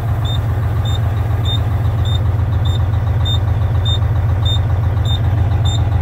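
An old car engine idling after a cold start, a loud, steady, rough low rumble with a rapid regular ticking pulse, close and continuous without any revving.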